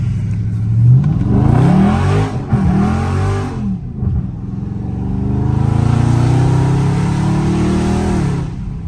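Dodge Scat Pack engine revs hard and loud while the car spins donuts in the rain, rising and falling roars with sliding wheelspin, close and continuous.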